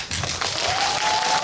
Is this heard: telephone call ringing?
no